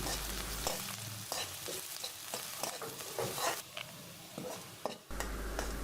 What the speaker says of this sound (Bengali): অল্প তেল তেল দিয়ে খুব ভালোভাবে নেড়ে ছেড়ে ব্রাউন করে ভেজে নিচ্ছি